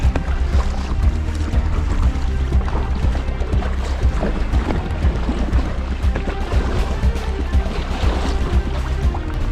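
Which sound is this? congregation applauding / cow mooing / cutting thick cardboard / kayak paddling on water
kayak paddling on water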